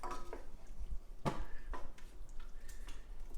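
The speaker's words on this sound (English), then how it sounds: "I'm just going to lightly stir it" A spoon lightly stirs a lamb shank braise in a pot, with a few soft knocks and scrapes against the pot amid quiet bubbling.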